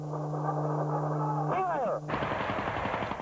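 A tank fires a round at a target on a gunnery range, a sharp loud blast that breaks over a steady engine hum and radio chatter, followed by a lingering rumble.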